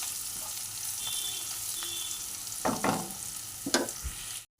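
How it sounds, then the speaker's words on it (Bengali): Onions frying in a pan with a little sugar added while cooking a fish kofta curry, a soft steady sizzle with a few short stirring scrapes and clinks near the end. "পেঁয়াজগুলো ভাজা হয়ে গেছে।"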